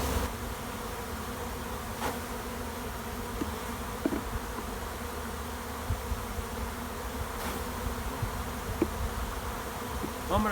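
Honey bees drone from an open hive box during queen rearing, a dense continuous buzz with a few faint knocks and taps, and no talking.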